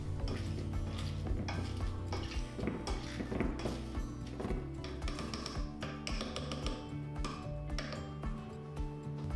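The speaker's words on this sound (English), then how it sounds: "just drain them and get them all mashed up" Drained sweet potatoes are mashed in a pot for fish cakes, with a steady run of soft knocks, taps and clinks of the masher against the metal, quiet and close, while background music plays.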